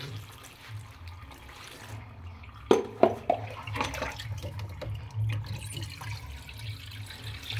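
Tap water pours into a tub to soak a large load of dirty laundry and a curtain, a steady running rush with a few sharp knocks and splashes midway, heard alone without talk.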